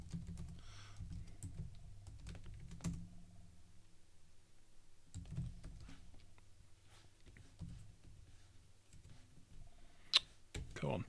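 Typing on a computer keyboard at a 486 SX PC running MS-DOS, quiet irregular clicks in short bursts, fairly faint, with low background hum and some talk.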